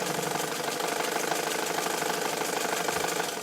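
Vintage all-metal Necchi BU Nova sewing machine running fast, a steady dense mechanical whir with rapid needle clatter, close and continuous throughout without talk.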